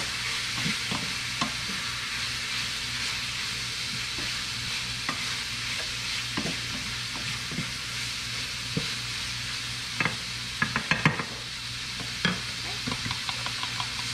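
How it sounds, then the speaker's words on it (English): Shepherd's pie filling stirred in a pan, with a low continuous sizzle and scattered scraping taps of the spoon that grow busier toward the end. "we're just gonna stir this up and make sure this is"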